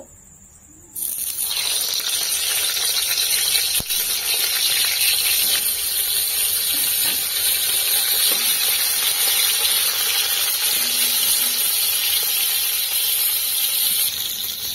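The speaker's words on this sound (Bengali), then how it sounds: "এখন আমি পটলগুলো ভেজে নেব।" Pointed gourd (potol) dropped into hot oil in a kadai, a loud sizzle bursting in after a quiet second and then holding as a steady, bright hiss of frying with a few small pops.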